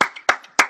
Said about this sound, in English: An applause for the speakers.